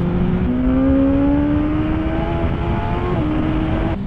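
A 2021 BMW S1000R motorcycle engine roaring steadily and loud, its whining tone climbing in pitch, dipping briefly as if shifting gear, then holding on, with no voices.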